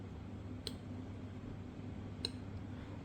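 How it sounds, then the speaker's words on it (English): Thermostat knob on a $15 Anko fan heater from Kmart being turned, giving two crisp, separate clicks over a low, steady background hum. "Now if we turn this, we'll hear a click."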